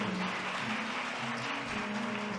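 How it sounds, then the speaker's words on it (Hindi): Audience applause welcoming the families of freedom fighters at a spiritual gathering, a steady, dense wash of many hands clapping continuously, fairly loud and even throughout with no speech over it. "जोरदार तालियों से स्वागत करिए।"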